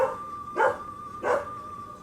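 A dog barks twice, a second or so apart, somewhat distant, with a steady tone humming behind the barks.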